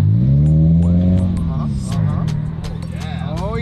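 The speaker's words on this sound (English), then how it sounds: "Little baby revs there, little baby revs in the Prius." A Toyota Prius with a small 1-liter engine and an aftermarket exhaust gives a few short, light revs: a low, close engine drone that rises and falls, with faint voices in the background.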